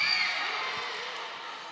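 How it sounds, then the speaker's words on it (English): Crowd at an Athletes Unlimited professional volleyball match cheering and whooping, a bright sustained wash of voices that starts loud and gradually fades over a couple of seconds. "The crowd really get into it."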